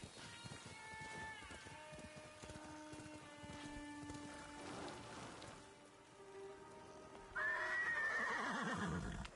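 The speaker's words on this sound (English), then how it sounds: "This horse doesn't like me." A horse in the video game Ghost of Tsushima gives a loud, quavering neigh near the end, over steady falling rain and soft hoof clip-clops.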